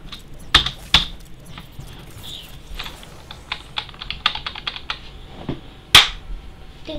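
Computer keyboard being typed on in sparse bursts, scattered key clicks with a few sharp, louder strikes standing out, close and dry with no talking.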